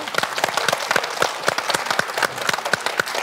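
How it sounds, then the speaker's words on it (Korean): Studio audience on a Korean television talk show breaks into steady, dense applause, many hands clapping together at close range and holding an even level from start to finish. "우리 황태순 선생님께 박수 한번 보내주시겠어요?"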